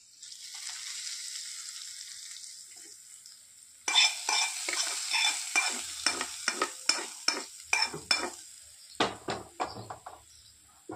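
Coconut chutney tempering sizzles in a hot pan, a soft frying hiss building before a sudden loud burst of crackling and stirring, then sharp intermittent spits and pops, close up with no talk.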